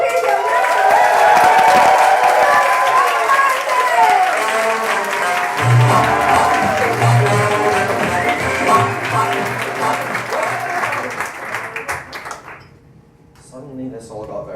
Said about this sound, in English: you're going to start the clap and we're going to bring Kyle Martin out